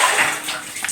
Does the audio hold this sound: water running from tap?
yes